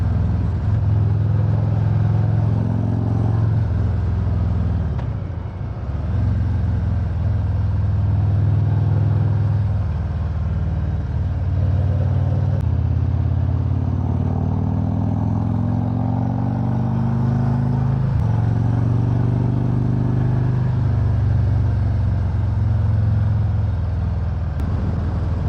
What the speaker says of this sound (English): Even the exhaust note sounds better.